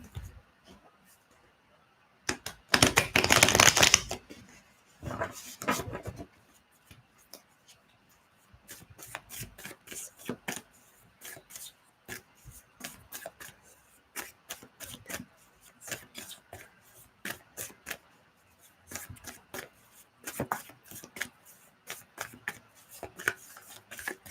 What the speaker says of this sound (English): Just going to clear these cards.